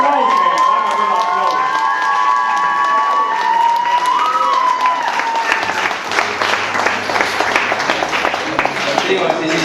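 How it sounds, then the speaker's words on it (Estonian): A crowd at a teachers' day school event breaks into sustained applause and cheering, dense clapping building and continuing through the clip while voices call out over it. "Aplaus!"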